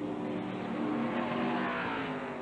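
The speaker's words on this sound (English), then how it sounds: "Can't see anything, John, as the car goes by." A NASCAR race car at the 1994 Food World 500 rolls along pit road, its engine a steady, dense roar that holds loud and even for the whole stretch with no talk over it.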